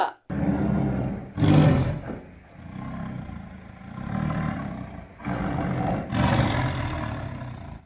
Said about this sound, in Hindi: शेर डर गया और गुस्से में दहाड़ते हुए वहां से भाग गया